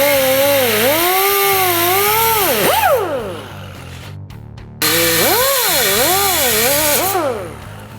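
A power tool cuts through sheet metal for a car's transmission tunnel, a loud high-pitched whine rising and falling in pitch as it bites, pausing briefly midway before resuming, close and continuous.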